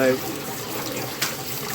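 Water is poured onto a yellow stone cast before sanding, making a soft, steady splash and trickle close by with a brief spattering burst midway.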